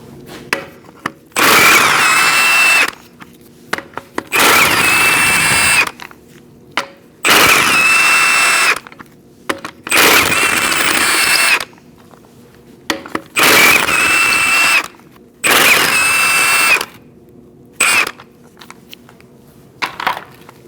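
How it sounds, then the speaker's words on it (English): A power impact wrench with a 19mm socket removes the lug nuts from a wheel on a 2004-2012 Chevrolet Colorado pickup, sounding as loud rattling bursts of about two seconds each, repeated several times with short pauses between. "Using a 19mm socket, we're going to remove our wheel."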